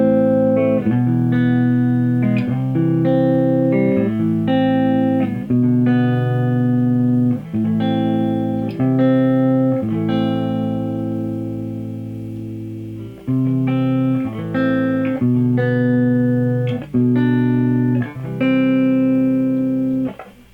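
Loud overdriven electric guitar through a Boss Blues Driver pedal used as a boost, playing chords and sustained notes, with a slightly gritty boosted tone and a brief quieter dip midway.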